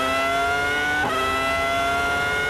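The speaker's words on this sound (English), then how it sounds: "See how hard he's working the car and the engine." Barrichello's Formula 1 race car engine at the 2005 US Grand Prix, a loud, high, sustained whine held close and steady for the whole stretch, with a brief dip and recovery as the revs change, and no talk.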